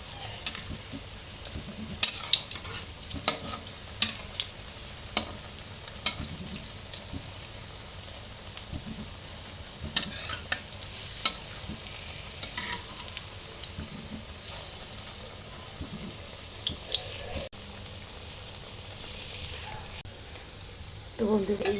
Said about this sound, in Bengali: তো এভাবে আমি ভেজে নিচ্ছি সবগুলো পকোড়া, এপিট ওপিট করে সব ভেজে নেব।